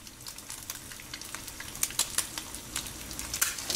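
Eggs frying in oil in a pan for scrambled eggs make a bright crackling sizzle with frequent sharp pops, close and steady throughout, with no talk.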